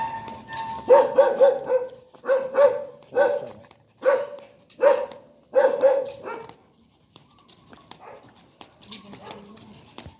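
Deep, loud barks from large dogs come in a steady series of single woofs, close by, then give way to quieter background noise.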